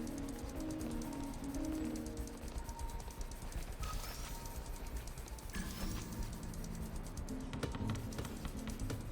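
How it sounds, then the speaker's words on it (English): A pigeon in Marvel's Spider-Man Remastered cooing in repeated low, soft calls over a constant bed of city ambience and clicking, with no talk. "This pigeon's strong."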